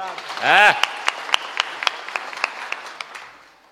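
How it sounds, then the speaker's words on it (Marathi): A short spoken phrase gives way to crisp, scattered handclaps from the audience at a Marathi kirtan, applauding Shinde saheb, fairly loud at first and gradually thinning out. "म्हणून एकदा शिंदे साहेबासाठी टाळ्या वाजवा"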